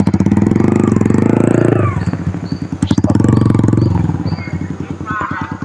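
A motorcycle engine idles and revs nearby, rumbling loudly and pulsing throughout while it is moved to park, with people talking over it.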